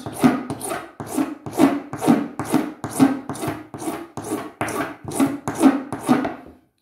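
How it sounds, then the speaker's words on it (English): Hand sanding a wooden ukulele kit part with sandpaper, about fourteen close, rhythmic rasping strokes in a steady back-and-forth pattern, each a short scratchy rub, with no talking. "and then I'll probably go over it with a piece of sandpaper."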